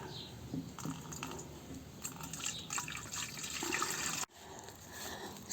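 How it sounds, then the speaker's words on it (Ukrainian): Liquid splashes and gurgles as it is poured into a garden sprayer, a steady running pour with a brief pause near the end. "Наливаємо у оприскувач."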